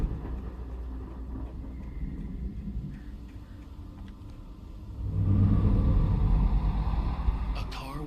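A car engine revs up and pulls away in Alan Wake Remastered, a low rumble rising and growing louder toward the end, heard beneath a steady background bed with a voice talking.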